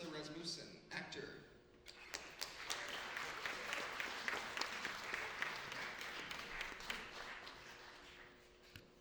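Audience at a film festival Q&A applauds the cast and crew in a sustained, steady round of clapping that fills the room, with some voices audible near the start.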